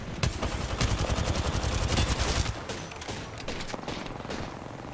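Rapid gunfire from a Wingman pistol in a video game rattles out as a dense burst of loud shots for about half the stretch, then thinner, quieter firing continues behind it.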